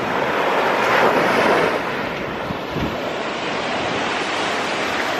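Ocean surf at a Southern California beach, a broad steady wash of breaking waves with some wind buffeting the microphone, fairly loud and unbroken, no voices.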